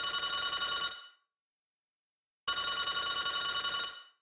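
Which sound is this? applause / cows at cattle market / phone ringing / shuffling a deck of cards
phone ringing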